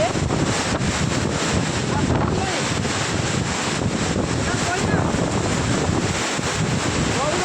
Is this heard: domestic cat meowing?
no